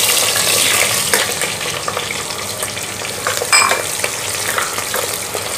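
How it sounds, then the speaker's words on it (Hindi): Onions sizzling and frying in oil in a pressure cooker for vegetable pulao, a steady crackling hiss with occasional stirring scrapes and clinks, close and continuous with no talking. "प्याज को तल जान देंगे,"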